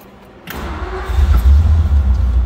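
A 1956 Ford Thunderbird engine cranks briefly and catches, then settles into a loud, deep, rumbling idle close by, with no talk.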